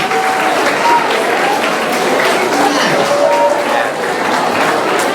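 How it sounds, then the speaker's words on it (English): A school assembly audience claps and cheers, a dense, loud burst of applause with scattered voices and calls mixed through it, sustained for several seconds. "Go ahead and clap."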